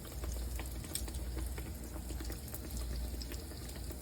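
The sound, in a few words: buttermilk beignet dough frying in hot oil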